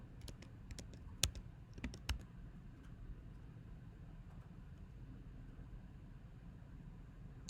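Keystrokes on a computer keyboard while writing SASS stylesheet code: a few faint, scattered clicks in a short burst near the start, then quiet typing fading into a low steady background hum.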